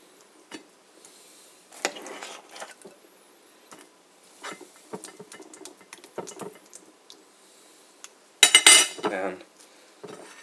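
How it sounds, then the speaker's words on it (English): A utensil scrapes and taps while spreading egg salad onto toasted bread, giving light, irregular clicks and scrapes at close range, with a louder clatter near the end. "Now, we put the egg salad on."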